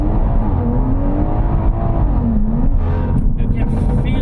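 A 500 HP BMW M140i with a stock exhaust and an M Performance limited-slip differential accelerates hard, its engine note rising steadily and loud and close, with a shift-like dip midway.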